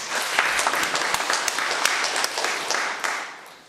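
Audience at a talk show marking the completion of a book series applauds warmly, dense clapping that holds steady for several seconds and then tapers off near the end.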